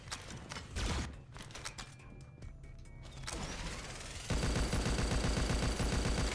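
Rapid bursts of gunfire and clattering weapon mechanisms from the video game Pixel Gun 3D, quick repeated shots that build into a dense, sustained rattle of automatic fire.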